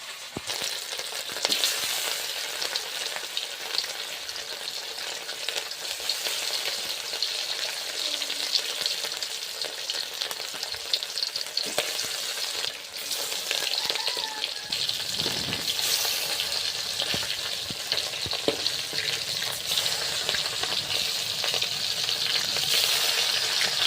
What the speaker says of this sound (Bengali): তেলটা গরম হয়ে গিয়েছে আর মাছটা তেলে দিয়ে ভেজে নেবো আস্তে আস্তে